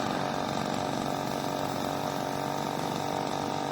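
A running gold recovery machine sending water and black sand cascading through it, a dense continuous pump-like churn and rushing wash, loud and close, steady from start to finish.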